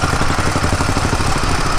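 A motorcycle rolls downhill in gear on a mountain road, its engine braking with a steady, dense mid-low drone and fine pulsing rumble, loud and close throughout, with no talk.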